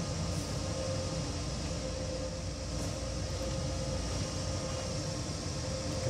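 A train in the Train Sim World video game on the Ruhr-Sieg Nord route, heard as a continuous heavy rumble with a steady mechanical hum and occasional faint clanks, close and unbroken throughout.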